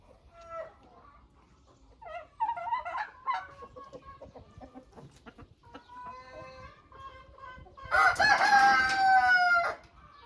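Silkie chickens in a greenhouse coop, with a silkie rooster letting out one loud, close crow near the end, preceded by scattered clucks and soft fowl chatter.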